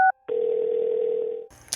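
A phone dials the police: a short two-tone beep, then a steady dial tone held for just over a second. It cuts off with a brief electronic chirp at the end.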